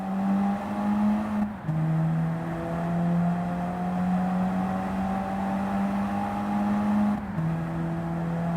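An unmodified Peugeot 205 GTI engine in Gran Turismo 7 holds a steady drone at moderate revs, briefly dipping twice as if shifting gears, then settling back to an even hum.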